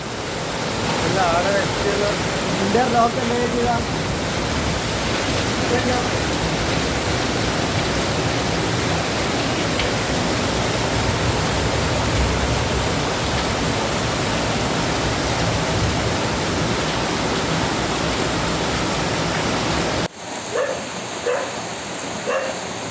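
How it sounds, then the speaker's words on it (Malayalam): Floodwater from heavy rain gushes through a collapsed laterite boundary wall at Kannur airport, a loud, steady roar of rushing water that runs unbroken for about twenty seconds before cutting off abruptly. "മതിൽ തകർന്ന സ്ഥലത്തിലൂടെ വെള്ളം കുത്തിയൊഴുകി സമീപത്തെ വീടുകളിലും റോഡരികിലെ ബൈക്ക് വർക്ക്ഷോപ്പിലും"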